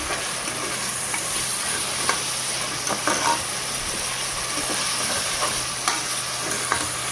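Chicken liver frying on high heat for a chilli liver fry, giving a loud, steady sizzle with light stirring clicks throughout and no voices.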